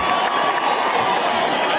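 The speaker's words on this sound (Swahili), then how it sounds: "Tupigie makofi." An audience at the Bomet Economic Forum bursts into a dense, steady wash of applause and cheering that fills the hall evenly from start to finish, with no single voice standing out.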